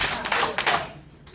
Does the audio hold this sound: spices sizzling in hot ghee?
no